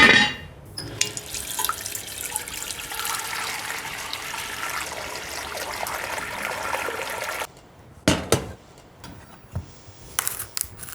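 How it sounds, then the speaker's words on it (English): Tap water runs steadily into a cooking pot in a home kitchen, a continuous close splashing rush that stops abruptly near the end, followed by a few brief clanks and knocks. "Actually, first thing I'm gonna put some water on to boil."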